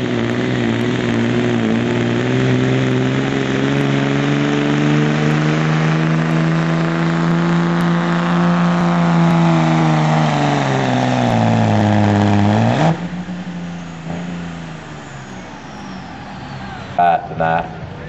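A Dodge diesel pickup at a street truck pull in Lebanon, Tennessee, roars loud and close in one long sustained pull with a rising then falling engine drone, cutting off sharply near the end, followed by a brief pair of bursts.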